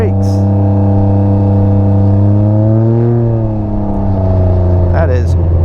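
A 2021 Can-Am Ryker Rally with a loud aftermarket exhaust idles and revs up close, its deep, harmonic engine drone swelling and easing back, with a short voice sounding near the end.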